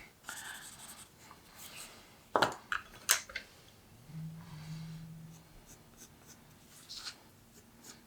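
A pencil scratches and shades across paper during a portrait drawing, with soft, uneven strokes and a few sharper taps and rustles close by, then quieter scratching continues with no one speaking.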